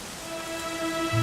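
Rain in the video game Dragon Quest XI, in the Dundrasil area, falls as a steady hiss with soft tonal hums beneath and a low swell near the end, with no speech.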